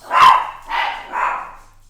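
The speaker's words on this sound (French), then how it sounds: "Excusez-moi pour les chiens." Several dogs barking indoors, three loud, close barks spaced about half a second apart, with no talk over them.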